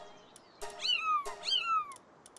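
A hedgehog creature in a video game gives two distinct cat-like meows, each a rising then falling tonal cry, about half a second apart, clear against a quiet background.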